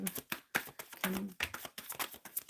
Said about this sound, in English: Spirit, I'm shuffling for Jenny Schneider, 3839.